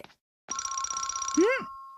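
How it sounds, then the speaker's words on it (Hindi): A telephone rings in a Doraemon cartoon, one steady electronic bell trill that starts abruptly after a brief silence and ends with a rising, swooping tone. "ये जरूर शिजुका का फोन होगा।"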